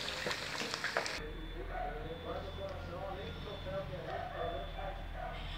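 Cassava pieces frying in hot oil, a soft steady sizzle with faint crackles that continues quietly in the background, with a brief louder clatter at the start.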